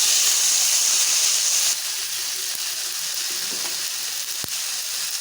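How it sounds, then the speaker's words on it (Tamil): Shallots, brinjal, drumstick and tomato sautéing in oil in a pan, giving a steady close sizzle and hiss that drops to a softer level partway through, with no talking. "காயை நல்லா வதக்கிடலாம்."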